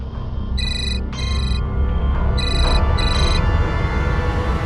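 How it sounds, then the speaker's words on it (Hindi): A telephone ringtone sounds in short bursts of bright, electronic tones, two pairs of rings, over a steady background hum in an indoor TV drama scene. "अरे फोन उठाकर बात कर लो ना पहले।"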